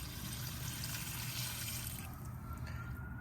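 Dirty cleaning water from an S&B cold air intake filter being poured out, a continuous close splashing gush of water that thins out toward the end.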